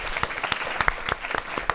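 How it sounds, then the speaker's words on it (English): Audience clapping after a panel conversation on digital commons, a brisk, moderately close burst of many hands with irregular sharp claps throughout. "Give them a big thank you with an applause."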